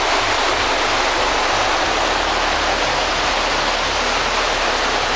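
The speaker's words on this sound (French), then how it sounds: "il y a vraiment l'eau qui tombe juste devant nous, on est vraiment sous la cascade" A waterfall in the mountains near Da Lat, Vietnam, roars loudly and continuously, heard from right beneath the falling water as a dense, unbroken rushing noise.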